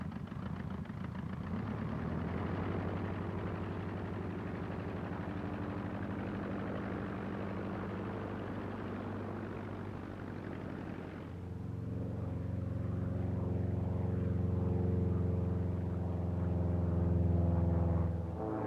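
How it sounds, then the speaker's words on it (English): Engine drone from a small two-place home-built VariEze cross-country airplane, a steady harmonic hum that grows louder and deeper partway through, alone with no talk. "this is the Very Easy, a small two-place cross-country type airplane made for the home-built market"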